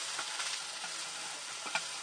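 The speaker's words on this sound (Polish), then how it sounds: "Jajka sadzone plus podsmażona kiełbaska." Fried eggs and sausage sizzle in a pan with a steady, close hiss and a few soft stirring scrapes, with no voices.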